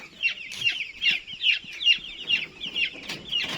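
Chickens cluck in a steady series of about nine sharp, evenly spaced calls, fairly close and loud, with no talking.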